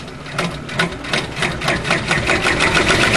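An embroidery machine stitches a pocket onto a bag with a fast, steady mechanical clatter, its needle strikes repeating in a tight rhythm, close and continuous.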